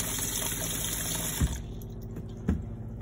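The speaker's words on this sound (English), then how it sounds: "exactly the same style tap as your kitchen sink. Hot and cold. And again, drains out really, really well into the waste tank" A campervan's domestic-style hot and cold tap runs water into the sink, draining steadily toward the waste tank, with a couple of soft knocks near the end as the flow eases off.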